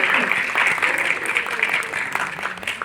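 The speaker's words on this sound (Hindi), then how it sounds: "तालियां को लेके बजाओ" A crowd claps steadily and enthusiastically, a dense, even patter of applause that stays loud throughout.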